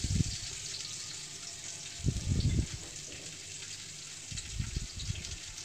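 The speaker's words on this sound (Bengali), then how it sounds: "এবার একটু নাড়িয়ে তেলের সাথে একটু হালকা ভেজে নিচ্ছি।" Chopped onion fries in hot oil in a home kitchen pan, giving off a steady bright hiss. Three bursts of low scraping and clatter mark the stirring.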